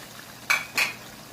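A spoon scrapes twice against a pan of chicken karahi as garam masala is stirred in, two short metallic clinks and scrapes close by, with no talking.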